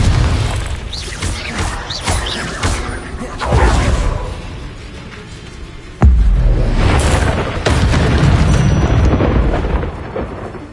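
Heavy booming blasts from Confringo spell explosions in the video game Hogwarts Legacy rumble almost without pause, with a sharp crash midway, while a voice talks over the din.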